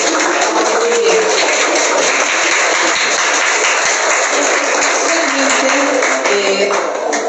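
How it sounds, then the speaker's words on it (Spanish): An audience applauds a student speaker at an academic event, a dense, steady patter of many hands clapping close and loud for several seconds without pause. "La recibo con fuertes aplausos, por favor"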